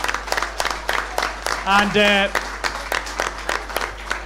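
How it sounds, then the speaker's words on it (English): Audience applause at a live charity show for the Irish Heart Foundation, briefly heard in the room under a presenter's continuing talk, with a short tonal cue rising in the middle. "I think that deserves a round of applause"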